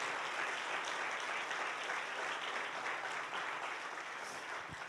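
A church congregation applauds in steady, dense clapping that fills the room at an even level throughout, with no pauses and no voices standing out.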